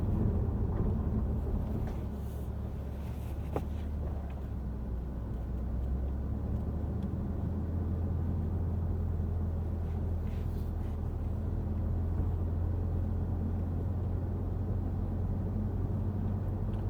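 Steady low engine and road rumble inside a 2023 Toyota GR Supra A91-MT Edition with manual transmission, a smooth continuous drone with faint tyre noise and no talking.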